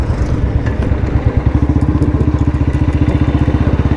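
A BS4 Royal Enfield Bullet 350 motorcycle engine idles loudly up close, then its exhaust erupts into a rapid, steady string of popping backfire crackles that continues nonstop.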